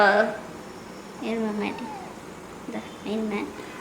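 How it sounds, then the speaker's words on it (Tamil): A cat gives several clear, drawn-out meows at close range, in two pairs separated by a pause, with people talking around it. "இது பூனைமா?"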